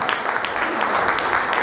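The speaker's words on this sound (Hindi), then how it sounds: "और एक मरतबा तालियों के साथ इस मासूम बच्चे का इस्तेमाल करें।" Steady crowd applause fills the room during an education society award ceremony as a winner is called to the stage, continuous and fairly loud throughout.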